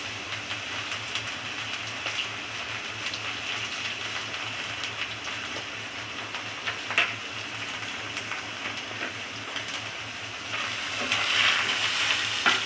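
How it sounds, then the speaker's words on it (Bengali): Spices and tomato fry in a pan with salt and cumin powder, giving a steady, dense sizzle that runs the whole time. A few louder crackles come near the end, and there is no talking. "এবারে মশলাটা ভালো করে কষিয়ে নিচ্ছি।"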